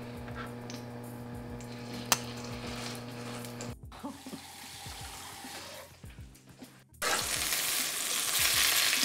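Shrimp cakes sizzle and fry in olive oil in a non-stick pan, a close, continuous crackle with occasional stirring and handling noises, rising louder near the end.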